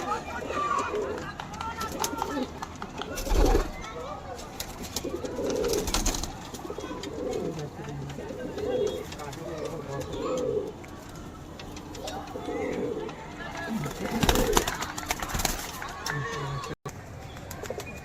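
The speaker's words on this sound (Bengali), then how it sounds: "দেখে নিন দেশি পায়রাগুলো" Native desi pigeons coo in soft, repeated rounds close by, with occasional wing flaps and someone talking over them.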